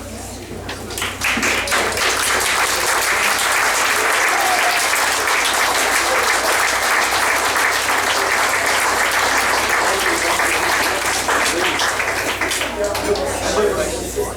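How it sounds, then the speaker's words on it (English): Dense, loud audience applause for tribute and scholarship award winners at a community Golden Week event, building quickly and holding steady for many seconds before easing slightly at the end. "Rise and we'll give you a round of applause as well"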